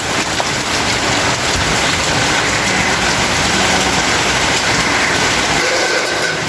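Calm, steady rain falls behind a house near a newly dug drainage canal, a continuous dense hiss of drops on surfaces that stays even throughout with no voices.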